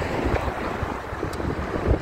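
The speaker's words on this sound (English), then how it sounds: "it's getting windy out there" Strong wind outside produces a steady, moderately loud rushing and buffeting roar with no voices.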